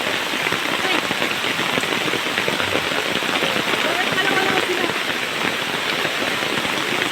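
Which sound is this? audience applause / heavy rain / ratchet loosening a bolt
heavy rain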